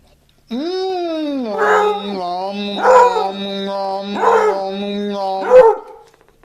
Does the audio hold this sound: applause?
no